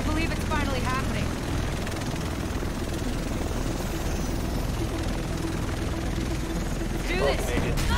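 Helicopter rotor noise in the video game Tom Clancy's The Division, a steady loud drone filling the whole stretch, with voices and game chatter over it.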